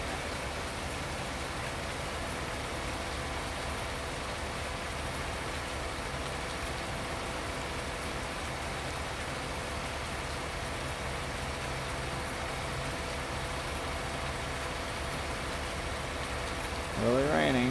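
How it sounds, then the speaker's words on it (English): Rain falling in the farming video game Farming Simulator 19, a dense steady hiss that holds evenly throughout, with no voices. "Really raining."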